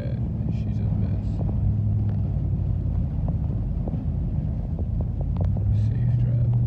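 Car driving a snow-covered highway during a 2024 snowstorm in Cape Breton, Nova Scotia, with a steady loud engine and road rumble from inside the cabin and scattered faint clicks over the continuous drone.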